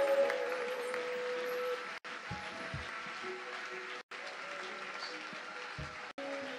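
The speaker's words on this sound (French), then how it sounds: "And clap for the presence of God in the sanctuary." A congregation applauds in a church sanctuary, a dense, steady wash of clapping lasting several seconds, broken by brief drops, with faint voices and music mixed underneath.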